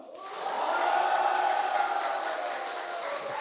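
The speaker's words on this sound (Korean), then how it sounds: "예수 사랑의 마음에 큰 박수와 함성 시작!" A church congregation at a spring revival meeting raises a loud, sustained roar of shouting and cheering that swells quickly and holds steady for several seconds.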